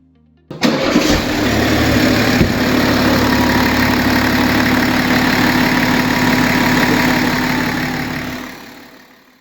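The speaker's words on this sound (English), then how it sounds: "After priming, the engine started without hesitation." A BMW X5 G05 3.0 diesel engine fires up after a service and settles into a steady, loud idle close by, a continuous low clatter and drone that fades away at the end.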